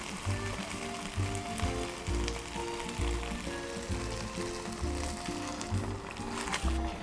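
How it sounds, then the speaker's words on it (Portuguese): Hot broth is added by the ladle to risotto and stirred, giving an ongoing bubbling sizzle with a rhythmic scraping and knocking pulse throughout. "Eu vou acrescentar de concha em concha e continuar mexendo."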